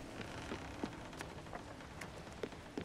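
Steady rain falls in the video game Spiritfarer, a dense hiss of drops with a few louder taps standing out now and then.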